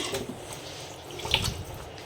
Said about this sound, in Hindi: पहला वाला जो पानी होता है उसको हम गार लेते हैं इस तरीके से